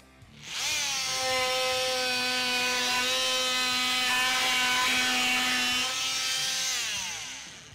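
A Dremel Velocity 7.0 amp corded oscillating tool (VC60-01) cuts through wood with a steady, loud, high buzzing whine that rises in pitch briefly. The cut runs about seven seconds before the tool winds down, with no talking.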